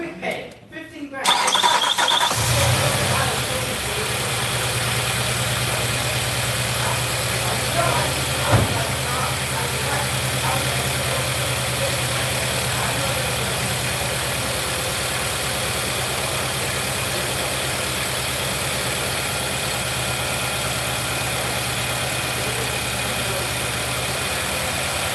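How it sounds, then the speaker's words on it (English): A Nissan engine with 35,000 miles, previously slugged up, cranks and starts, then settles into a steady loud idle with a constant hum and faint squeal; a voice talks over it. "Motor sounds very good now."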